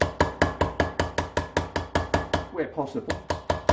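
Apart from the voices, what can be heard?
flat of hammer tapping out engine gasket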